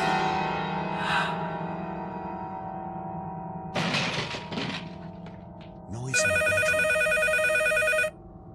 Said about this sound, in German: Was ist das Telefon?